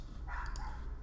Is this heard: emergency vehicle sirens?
no